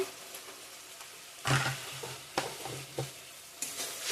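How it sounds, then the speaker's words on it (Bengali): Turmeric, chilli, cumin and coriander powders fry in a pan for a vegetarian potato and paneer curry, with a soft sizzle broken by several distinct stirring scrapes. "সব মশলা ভালো করে কষিয়ে নেব"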